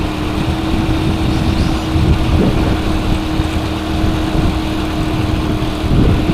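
Strong wind roars steadily against a small, skinny motorbike riding under dark, stormy skies, a constant broadband rush with low rumbling gusts and no talk.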